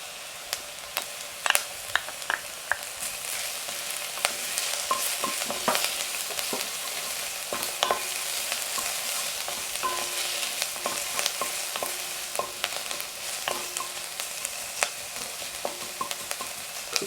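Thyme, garlic and chilies fry in a hot pan, giving a continuous bright sizzle with occasional stirring clicks and scrapes throughout, close and fairly loud, with no voices.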